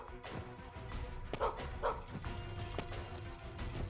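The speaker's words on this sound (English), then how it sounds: "There's a doggy up there. I want to get the doggy." A dog in the steampunk game Gestalt: Steam & Cinder gives a few short barks and yips over a busy mechanical game soundscape, fairly quiet and interspersed with clanking.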